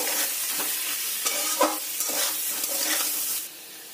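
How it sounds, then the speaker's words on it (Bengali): Potatoes with salt and turmeric frying in a kadai for homemade biryani: continuous close sizzle broken by several stirring scrapes and clinks, easing slightly quieter near the end. "আলুগুলো আমি লাল লাল করে ভেজে নেব"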